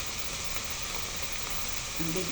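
Ground pork sizzles steadily in oil in a pan for misua, a soft continuous frying hiss with low murmuring underneath and no talk.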